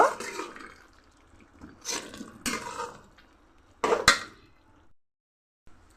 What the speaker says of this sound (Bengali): এখন আমি একটু নেড়ে চেড়ে নামিয়ে নেব।